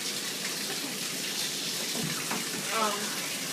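Tap water runs steadily to rinse off a puppy during its first bath, a broad continuous splashing close by with a brief louder gush near the end.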